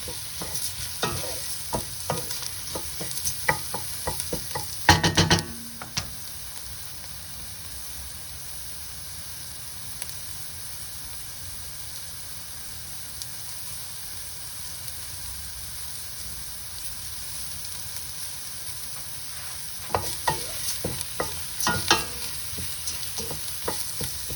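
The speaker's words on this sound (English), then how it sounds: "we need to turn the heat high and stir constantly for another couple of minutes" Kritharaki pasta sizzles steadily in olive oil over high heat, with sharp clatters of stirring at the start and again near the end and a constant frying hiss in between.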